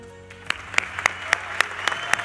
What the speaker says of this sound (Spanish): Fuerte el aplauso para Santutu.